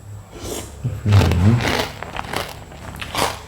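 Crispy fried pork rinds (khaep mu) bitten up close, a loud crunchy snap followed by brittle crackling chews, with lighter mouth noises after, no talk.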